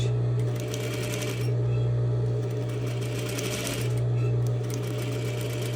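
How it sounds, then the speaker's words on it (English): A sewing machine stitches a quarter-inch French seam in a steady, continuous mechanical whir with a strong low hum, running close and loud with no talking. "I'm sewing it at 1/4 inch."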